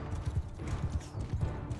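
Horses gallop in Mount and Blade Bannerlord, a rapid, steady drumming of many hooves under a low rumble of battle noise, fairly quiet and continuous.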